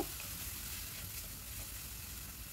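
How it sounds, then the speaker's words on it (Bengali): Onion frying lightly in a pan with ground spice paste from the mixer just added, for a Bengali-style prawn curry; a steady, close, even sizzle runs throughout without talk. "পেঁয়াজটা হালকা ভাজা হয়ে গেছে এখন এর মধ্যে মিক্সিতে যে পেস্টটা বানালাম সেটা দিয়ে দেব"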